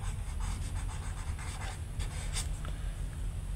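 Pen scratching out rough arithmetic on paper for a class 3 math lesson, a close, continuous scribbling with short stroke bursts over low background hum.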